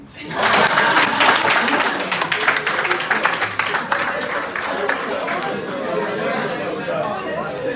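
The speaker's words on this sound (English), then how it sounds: "Why are you not clapping for me?" A conference audience at a food and agro-business roundtable breaks into brief clapping mixed with loud chatter, the applause fading under steady crowd murmur.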